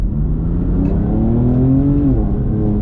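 A BMW M2 in Sport Plus mode accelerating hard, its engine note climbing steadily in pitch as revs build, loud and close inside the car, then dipping briefly as the gear changes.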